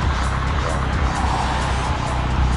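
Car drag racing westbound at around 110 miles an hour, a loud, steady roar of engine and wind that fills the whole stretch with no break.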